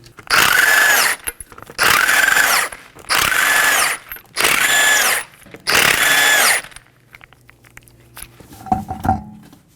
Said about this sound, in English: We'll be using a 21mm socket to remove the 5 lug nuts.